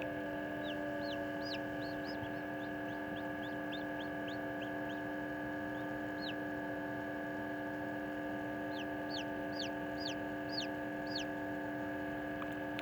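Newborn Araucana and silkie chicks in an incubator peep in high, thin cheeps, scattered bursts of rapid calls over a steady mechanical hum.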